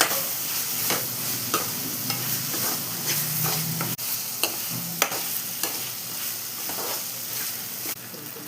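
Ginger garlic paste sizzles in hot oil for a Thanjai-style spicy mutton masala, with a steady frying hiss broken by repeated sharp clicks and scrapes of a spoon stirring against the pan, close up and with no talking.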